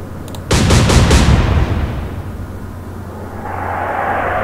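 A naval gun fires in the Atlantic Fleet video game: a sharp, loud blast followed by a booming rumble that rolls and fades over a few seconds, with faint engine-like drone continuing underneath.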